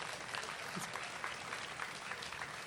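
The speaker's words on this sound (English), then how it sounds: "Please welcome a big round of applause for Kelly Taylor." Applause from a seated audience welcoming a speaker to the stage at a sacred plants and fungi festival in Michigan, a steady, fairly faint wash of clapping that holds evenly throughout with no talk over it.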